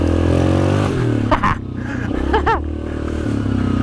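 A Yamaha Grizzly 700 XTR ATV on a trail at Hatfield & McCoy, its engine loud and close, droning steadily and then revving up sharply in two quick bursts before settling back.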